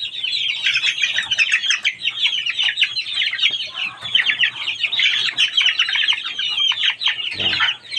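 About thirty newly hatched chicks from a single hatch chirp continuously in a dense, high-pitched chorus, close and fairly loud throughout with no talking.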